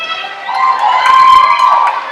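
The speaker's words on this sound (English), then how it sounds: "his teammates cheering enthusiastically for Ben" High school swim team teammates shouting and cheering loudly at an indoor swim meet, a sustained crowd roar with high-pitched youthful yells echoing near the pool.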